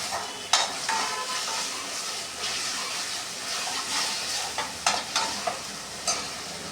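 Tomato dropped into a hot pan while fried rice cooks, giving a continuous loud sizzle broken by clinks and scrapes of stirring.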